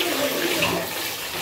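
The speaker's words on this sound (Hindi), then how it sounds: "टब में देखिए गाइस पानी भर कर ये लोग पूरा मस्ती कर रही है आज।" Water sloshes and splashes steadily in a filled bathtub as children play in it, a continuous close wash of watery noise.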